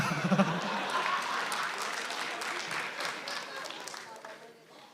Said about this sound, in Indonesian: Beri tepuk tangan untuk dokter dari Timika